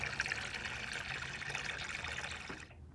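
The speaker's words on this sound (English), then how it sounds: "I'm going to use the bleed valve off the filter system to go ahead and fill the water bath" Water pours steadily from a filter system's bleed valve into a carbonator tank's water bath, a continuous close trickling rush that stops abruptly near the end.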